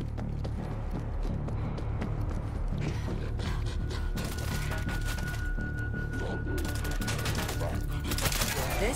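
Rapid mechanical gunfire from an auto turret in the zombie shooter World War Z, a dense continuous rattle of shots layered over busy game noise, loud and close throughout.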